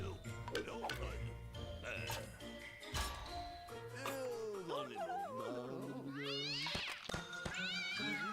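Cats meowing in the video game Penny Arcade Adventures, several rising and falling meows with a brief caterwaul, over game music and effects.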